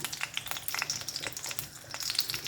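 Green chillies, garlic cloves and a small piece of ginger fry in hot oil in a pan, giving a light, steady crackle with scattered sharp pops, fairly close and moderate in volume, with no talking.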